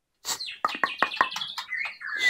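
A female white-rumped shama (murai batu) from a breeding farm chirps in a rapid run of sharp, bright tweets and whistles, several quick notes in a burst, close and clear with no talk over it.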